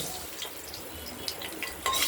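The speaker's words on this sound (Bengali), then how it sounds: "সর্ষের তেলটা গরম করে নিয়ে নুন দিয়ে দিলাম এই তেলটা খুব ফুটছে" Mustard oil with salt bubbles and spits in a hot pan, a faint, crackly, irregular frying sound with small pops and a slightly louder burst at the end.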